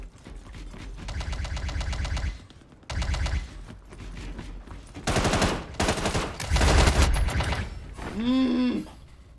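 A plasma rifle fires in the video game Star Citizen, with loud rapid automatic bursts stuttering on and off in several volleys, ending with sweeping electronic tones.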